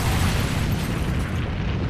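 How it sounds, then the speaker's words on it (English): Explosions detonate in rapid succession in a video game, a dense, loud run of booming blasts rolling together with no pause between them. "they detonate in rapid succession"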